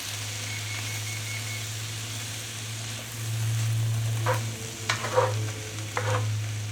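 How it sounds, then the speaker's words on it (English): Sausage, onions and peppers sizzle in a 10-inch cast iron skillet with a steady frying hiss, joined midway by a few clinks and scrapes of stirring. "we're going to start off by frying the sausage with the onions and peppers."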